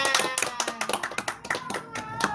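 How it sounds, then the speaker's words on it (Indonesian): A classroom of students claps hands in a quick, rhythmic patterned chant, a steady run of close, bright claps lasting a couple of seconds with no talk over it. "tepuk tangan."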